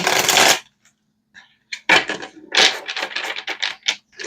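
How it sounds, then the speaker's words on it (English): A tarot card deck gets a quick shuffle, with crisp bursts of riffling cards and sharp flicks and taps in irregular clusters, close and fairly quiet with short pauses between. "let's give this one quick shuffle"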